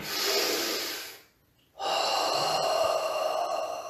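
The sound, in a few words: breathing out through open mouth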